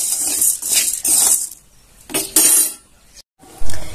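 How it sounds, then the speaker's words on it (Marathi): Sago pearls roast in a pan, rattling and clinking in repeated bursts of stirring with short pauses between, close and fairly loud, with no talk. "तर आता हे आपण साबुदाणा छान असं भाजून घेऊया."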